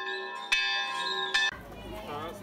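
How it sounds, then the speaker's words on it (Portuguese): A church-type bell rung as the alarm for a civil protection drill in Torre de Dona Chama, Portugal, two loud clangs with a long sustained ringing hum, then fading into background murmur. "Ao toque do sino, a população sabe que tem de se dirigir para o Largo do Pelourinho"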